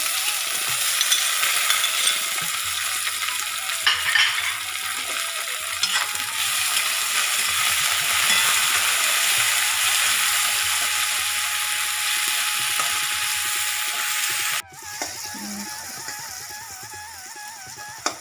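Steady, close sizzling of coriander leaves and tomato frying in a pan for chicken bharta, with scraping stir strokes and clicks of a spatula recurring throughout; a brief dip near the end.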